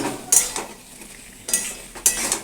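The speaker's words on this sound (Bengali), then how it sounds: "কাঁচা পোস্ত দিয়ে এটাকে ভালো করে নাড়িয়ে নিতে হবে" A spoon scrapes through bottle gourd greens and boiled potatoes mixed with raw poppy seed paste in a pan, three distinct close strokes with soft sizzling between them.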